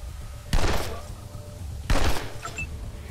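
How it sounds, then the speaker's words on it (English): FAMAS rifle fire in the video game Wasteland 2: two loud, close bursts of gunfire about a second and a half apart, each with a short decaying tail, over low game ambience. "I love the sound this FAMAS makes."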